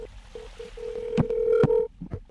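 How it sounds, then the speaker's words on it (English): Phone number dialed on a telephone, a series of short keypad tones in an uneven rhythm, then a longer tone with a couple of sharp clicks, close and fairly clear. "I'm gonna be calling my friend Hans"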